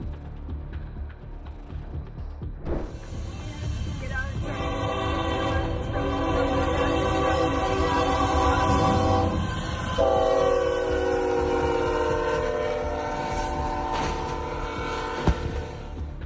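A Union Pacific freight train rumbles past with a loud, sustained horn blast, wheels clanking and rattling throughout.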